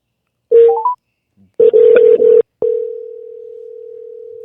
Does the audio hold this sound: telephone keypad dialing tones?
yes